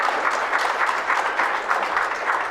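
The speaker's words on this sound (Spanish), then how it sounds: "Un aplauso al Señor." A church congregation breaks into sustained applause during a Spanish-language sermon, dense and even clapping filling the room at a steady level from start to finish.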